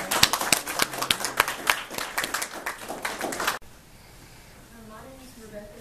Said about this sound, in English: Let's have a round of applause for the judges.